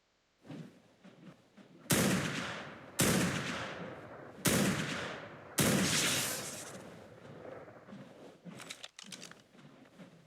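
Four loud bursts of gunfire from the Ark Primal Fear video game, each a sharp blast with a long decaying tail, spaced about a second apart, followed by scattered fainter shots and clatter.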